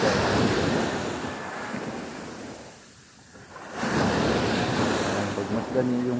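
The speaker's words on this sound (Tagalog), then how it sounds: "Tandahan yung malaki yung alon guys." Ocean waves roll and crash on a shore at dawn, a broad, continuous roar that swells, dips briefly, then surges again, with wind buffeting the microphone and a voice faintly underneath.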